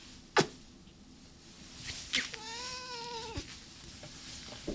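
A cat meows indoors: a short sharp call near the start, another brief cry, then a longer drawn-out meow at a moderate distance over a quiet background.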